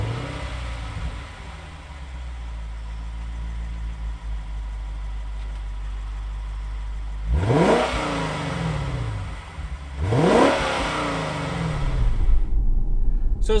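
A 2019 Lexus GS F 10th Anniversary idles with a steady low rumble, then surges through two loud acceleration pulls, with rising engine notes sweeping upward before easing off.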